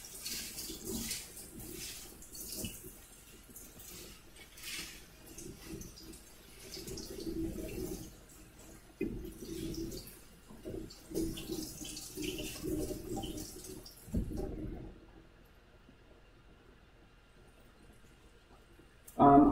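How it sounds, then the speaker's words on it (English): Running tap water pours and splashes as kale is washed by hand, a soft, uneven rush with intermittent swells and rustling, then the flow stops and near silence follows before a final clunk. "I'm just going to wash this by hand real fast."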